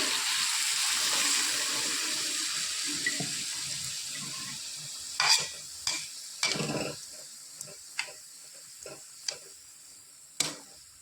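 Water poured into a pan of frying amudi fish: a rushing pour and hiss that fades out, followed by scattered sharp clicks and taps of utensils against the pan.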